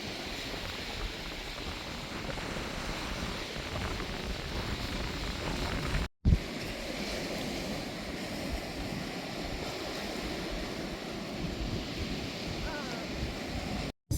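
Sea waves wash onto the beach at Calblanque in a steady, broad rushing hiss, with wind buffeting the microphone throughout and a couple of brief dropouts.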